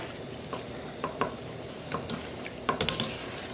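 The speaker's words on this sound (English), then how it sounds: "And I'm going to stir it." Puerto Rican salt cod in a pot, stirred with soft scrapes and light taps that come in a loose, irregular rhythm over a faint sizzle, with no voices.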